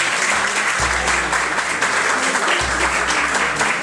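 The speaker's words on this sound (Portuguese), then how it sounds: "Uma salva de palmas." An audience gives a guest, a curator, a round of applause: a steady, full, continuous burst of clapping that fills the whole stretch at even loudness with no talk on top.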